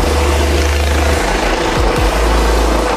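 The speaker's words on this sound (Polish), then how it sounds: "Helikopter przyleciał" A helicopter arrives over a tuning and drift show in Dynów, making a loud, continuous low rotor rumble close by with little else audible.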